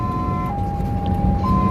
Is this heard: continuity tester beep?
no